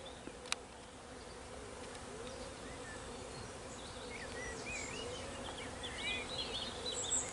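A steady, faint hum of many bees buzzing close by, continuous and busy, with a few brief higher chirps in the background.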